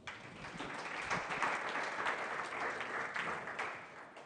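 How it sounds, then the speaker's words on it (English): Conference audience at MTC2018 applauding to welcome a speaker for a talk on regular expressions, a steady wash of clapping from many hands, fairly soft and continuous throughout. "How about a warm welcome for Jim Ray?"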